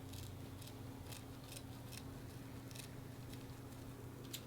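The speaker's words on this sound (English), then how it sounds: "let me grab my scissors, and let's just cut a tiny little end" Several quick, crisp snips of scissors cutting the end off a zip tie, spaced across a steady low hum, fairly close and quiet.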